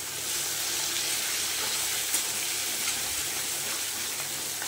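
Ginger frying in a pan for mung dal with bottle gourd, a steady bright sizzle that holds even and continuous throughout, close and uninterrupted.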